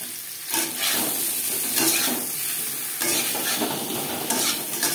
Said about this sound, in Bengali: পরিমাণ মতো হলুদের গুঁড়ো ও লবণ দিয়ে আলু ভেজে নেব।